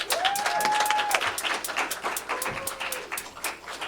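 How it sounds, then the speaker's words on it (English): Audience applause for a musician being introduced at a Sunday service, a dense steady patter of many hands under a brief tonal whine, fairly loud throughout. "let's give a round of applause"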